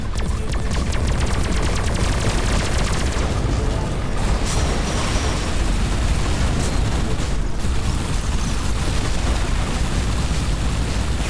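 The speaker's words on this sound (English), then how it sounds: "There's a lot of missiles flying here." Missiles and explosions in the space shooter Everspace 2 form a constant, loud barrage of rapid blasts, crackling fire and rumbling booms with no letup.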